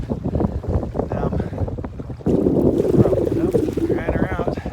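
Gusty wind buffets the microphone on a lakeside stretch of the Superior Hiking Trail, the rumble swelling louder partway through and running under brief bits of talk.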